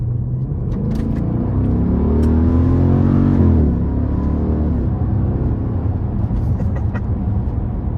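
A 6.4 liter Hemi V8 roars as the car accelerates from a rolling start, its pitch climbing through a hard rev before easing back into a steady rumbling cruise.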